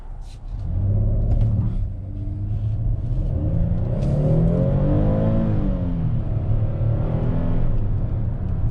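A 2021 Hyundai Palisade Calligraphy SUV accelerates hard from a brake boost in sport mode, its engine rumbling loud and steady from inside the cabin, with rising and falling revs as it pulls through gears.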